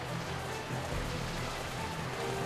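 Steady rain patter and hiss in the video game Final Fantasy XII: The Zodiac Age, constant and fairly soft, with no voices.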